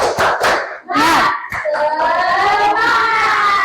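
Children in an Indonesian classroom doing a rhythmic spirit clapping cheer, quick patterned claps mixed with shouted voices close by, ending in a sustained chanted cry.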